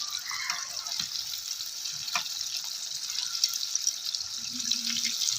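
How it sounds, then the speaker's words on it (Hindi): Chicken wings coated in a crispy fried chicken mix deep frying in hot oil, giving a steady close bubbling sizzle throughout with faint clinks and brief low knocks. "क्या ही खूबसूरत सिजलिंग साउंड है"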